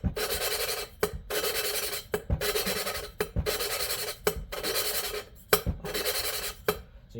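A valve lapping tool spins a valve against its seat in a cylinder head, giving a steady close gritty rasping grind in repeated bursts of about a second, each broken by short gaps and clicks as the valve is lifted and dropped back in.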